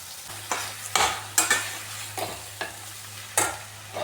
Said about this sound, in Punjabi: ਟਮਾਟਰ ਤੇ ਪਿਆਜ਼ ਵਿੱਚ ਅਸੀਂ ਮਕਰੋਨੀ ਨੂੰ ਪਾ ਲਿਆ ਤੋਂ ਨਾਲ ਨੂੰ ਚੰਗੀ ਤਰ੍ਹਾਂ ਮਿਕਸ ਕਰ ਲਾਂਗੇ